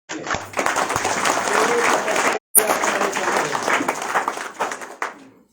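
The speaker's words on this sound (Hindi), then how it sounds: "चलिए जोरदार ताली इनके लिए।" A crowd at an outdoor public rally in Tarapur, Faizabad, bursts into loud, sustained clapping that briefly cuts out and then resumes before fading away.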